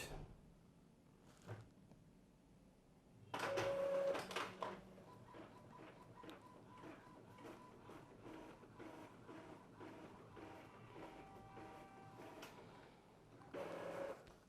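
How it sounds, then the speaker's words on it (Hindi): An Epson inkjet printer runs a test page sent from the computer, its print head shuttling back and forth with a steady mechanical whir and rhythmic clicks, plus louder feed bursts at the start and end of the job. "अब देखिए ये हमारा प्रिंटर बिल्कुल ओके प्रिंट देने लगा है।"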